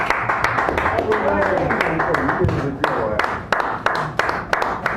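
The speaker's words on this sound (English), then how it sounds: "give him a round of applause" An audience at a poetry night in a San Francisco café claps for a poet, with scattered sharp claps over a dense, murmuring room.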